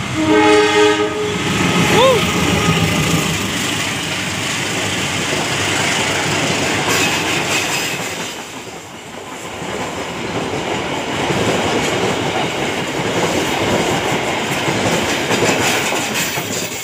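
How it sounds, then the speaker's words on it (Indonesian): Pasundan passenger train passing the PJL 198 Kebon Kapas level crossing, loud and close, with a horn blast early on and a long steady rumble and clatter of wagons rolling by. "itu dia kereta api Pasundan ya, sudah melintas PJL 198 Kebon Kapas"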